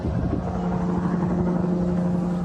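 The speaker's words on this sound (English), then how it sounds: "as a helicopter flies overhead" A helicopter flies overhead during a wildfire response at Canfield Mountain near Coeur d'Alene, Idaho. It makes a steady, continuous rotor drone with no talking.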